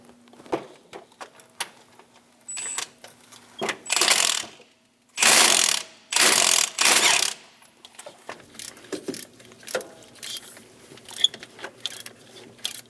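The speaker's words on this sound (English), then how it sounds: "Hold the harmonic balancer still while you torque the bolt to 110 foot-pounds." Ratchet wrench torquing the harmonic balancer bolt on a Chevrolet Express engine: scattered light clicks, then three loud bursts of rapid ratcheting, followed by sparse ticking and mechanical clatter, nearby and without speech.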